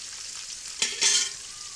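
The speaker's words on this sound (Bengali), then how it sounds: "দুই চুলার মাছ ভাজি বসা হয়ে গেছে" Fish frying in a pan on a home stove, a steady close sizzle with a brief louder crackle burst near the middle, no voices.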